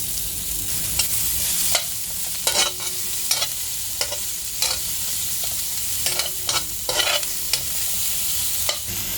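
Hotdog and garlic stir-frying in a pan for Filipino-style spaghetti, with a loud, constant sizzle broken by repeated scraping stirs at a loose, regular pace.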